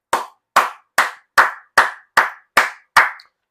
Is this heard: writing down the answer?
no